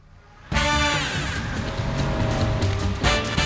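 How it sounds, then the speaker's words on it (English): A car skids and squeals its tyres on a skid pan during driving training, starting abruptly and holding loud and close for several seconds, with a fresh burst of squeal near the end. "We do skid pan driving to be able to handle a car in a situation where you've got your charge in the back"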